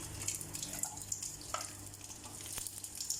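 Food fries in hot cooking oil, a soft continuous crackle and hiss with scattered pops, fairly quiet and steady throughout.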